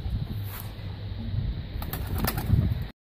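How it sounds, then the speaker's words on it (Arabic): Homing pigeons coo low and steady inside a loft, close and continuous, with a few faint wing flutters and rustles toward the end. "الحميمات هادو كيتشمشو هنا"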